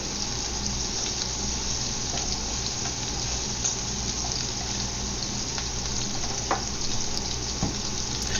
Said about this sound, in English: So I'm just flipping it over so that the uncooked side is getting fried a bit.